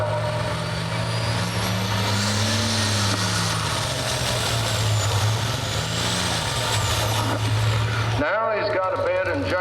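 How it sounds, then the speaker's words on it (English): A hot farm tractor at a pulling event runs its engine rough and misfiring from a bad injector or broken line, a loud continuous uneven drone with shifting pitch that cuts off sharply near the end. "Now he's got a bad injector or a broken line or something. You can hear it's a 5-cylinder now, maybe only a 4."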